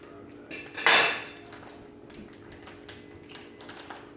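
A knife slices a center cut from a block of smoked SPAM, giving one short, close scraping clatter against the board that fades into a quiet room.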